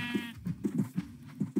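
Cow in the Minecraft video game giving several short, close moos in an uneven series, clear and alone without talk.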